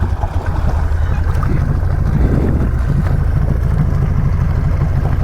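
An off-road vehicle's engine drones loud and steady as it crosses a river on muddy trails, a constant low rumble mixed with water churn and wind buffeting the microphone.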